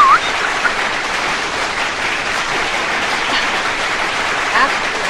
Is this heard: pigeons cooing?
no